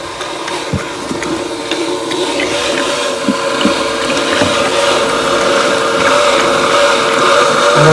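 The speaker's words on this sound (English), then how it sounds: "And the water is still running in from the stern." Steady rushing and gurgling of water pouring in through a boat's stern, constant and close, with a faint mechanical hum and occasional knocks.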